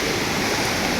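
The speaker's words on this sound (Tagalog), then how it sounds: "rumaragas ang tubig mula dun sa bundok" Floodwater rushes down from a mountain after a typhoon, a dense, loud, constant roar of torrent with no pauses or voices.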